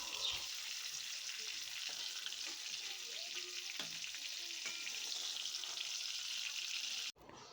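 Eggplant slices fry in hot oil in a kadai, a steady, even sizzle that holds for several seconds before cutting off abruptly near the end, with no talking.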